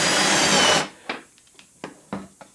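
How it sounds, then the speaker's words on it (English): A Forstner bit bores a large hole in wood, a loud steady drilling roar for under a second that stops abruptly, followed by several sharp knocks and clatters. "when you're using a Forstner bit, they work fine without a pilot hole"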